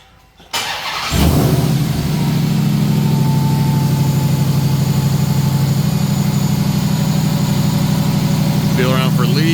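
A Ram TRX V8 fitted with a K&N full cold-air intake starts up and settles into a loud, steady idle with a constant supercharger whine over the low rumble, close by, with a voice briefly heard near the end.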